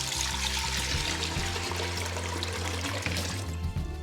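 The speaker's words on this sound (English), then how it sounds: "Let's see how much a gallon fills in this pot." A gallon of tap water pours into a pot, a continuous splashing trickle with a low resonant ring from the filling vessel, close and steady throughout.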